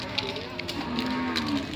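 Cattle mooing at the crowded Yasothon cattle market in Thailand, a drawn-out low moo over busy pen ambience and faint background voices.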